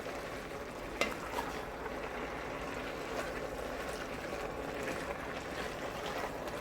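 Southern steamed cabbage being stirred in a pot on the stove, a steady soft sizzle and bubbling with faint scraping under it and one sharp clink near the start, no talk.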